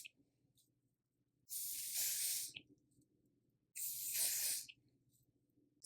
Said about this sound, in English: I'm going to use a little bit of lace spray just to spray down the front of this wig